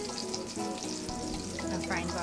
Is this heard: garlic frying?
yes